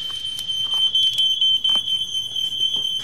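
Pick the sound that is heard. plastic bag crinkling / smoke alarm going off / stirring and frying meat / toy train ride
smoke alarm going off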